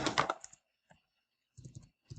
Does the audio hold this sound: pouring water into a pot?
no